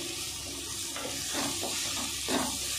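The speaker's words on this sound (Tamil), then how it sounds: "அதில் கொஞ்சம் தண்ணி சேர்த்துக்குவோம்." Water is poured into a hot pan of potato gravy with chilli and garam masala, producing a steady hiss and sizzle with gurgling bursts, close and moderately quiet.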